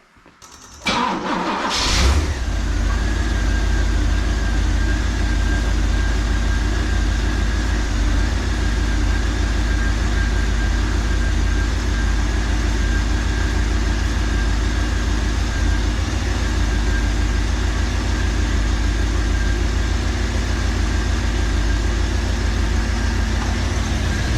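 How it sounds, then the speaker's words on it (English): A 1986 Pontiac Trans Am with a bad exhaust cranks and starts, then settles into a steady, fairly quiet idle that drones on for the rest of the clip. "It's really surprisingly quiet given how bad that exhaust is on this car."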